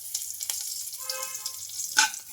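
Mustard-seed tempering with a pinch of turmeric and curry leaves sizzles in hot oil, a bright close crackle with scattered pops and one louder burst near the end.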